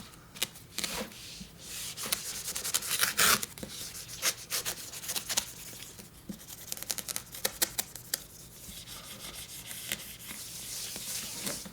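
An eraser scrubs ink off a board coated in chalkboard paint, giving repeated dry rubbing and scraping strokes close up, with occasional catches and bumps at the edges, and no voices.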